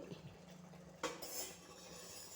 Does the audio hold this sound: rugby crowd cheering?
no